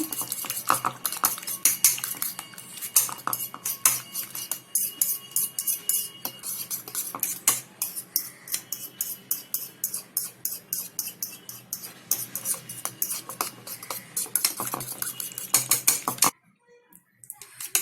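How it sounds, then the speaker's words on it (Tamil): Eggs are beaten briskly in a bowl with a utensil, making a rapid, steady run of close metallic clinks and taps that continues for over fifteen seconds before stopping abruptly. "எக் ஆட் பண்ணிட்டு நல்லா பீட் பண்ணிக்கோங்க"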